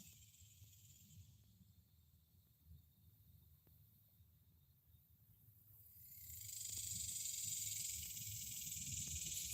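Cicadas droning outdoors, a faint steady high buzz that swells much louder partway through and holds, with low background rumble and no talking.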